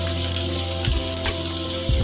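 Vegetables fry in a pan with ground black pepper added, giving a loud, steady, close sizzle that hisses throughout, broken by a couple of soft thumps, no talking.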